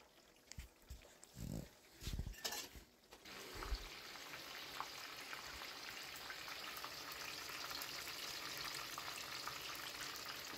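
Spring rolls and samosas fry in hot oil, a dense, continuous sizzle that builds after a few handling knocks and clatters at the start, then holds steady and fairly loud.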